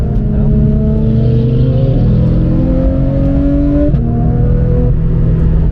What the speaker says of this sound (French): la GT2 RS que vous venez de voir passer